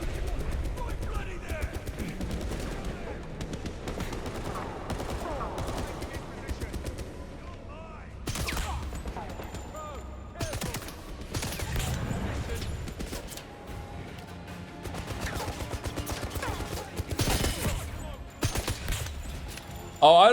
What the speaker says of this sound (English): I don't like guns that shoot more than one bullet at a time